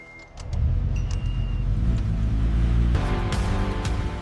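A rebuilt McLaren supercar engine fires up after a short whirr, then settles into a loud, steady, close rumble with a sharper rise near the end.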